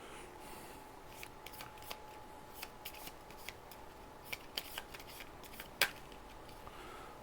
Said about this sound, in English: I forgot to shuffle the cards back in.